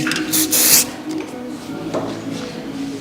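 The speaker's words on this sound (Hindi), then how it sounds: "shine spray," Shine spray hisses from a can onto hair during traditional braiding, a couple of short, bright bursts close up at the start, then quieter handling noise.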